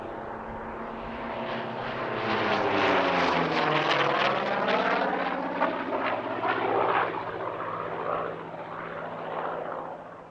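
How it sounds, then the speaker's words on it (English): A Korean War veteran Corsair propeller fighter roars past at an airshow, its engine drone loud and continuous, swelling as it nears and shifting in pitch as it passes. "This is the last surviving Corsair to have seen service in the Korean War."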